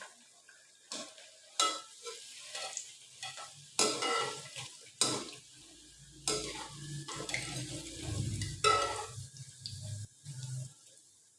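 Potato pakoras lifted out of hot frying oil: quiet bubbling and sizzle under a series of intermittent scooping and clattering bursts from the utensil, with short pauses between each lift.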